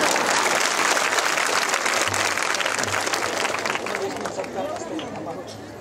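Thunderous applause fills the hall at a Buddhist Dhamma talk, dense and loud at first and gradually easing over several seconds, with crowd murmur beneath it.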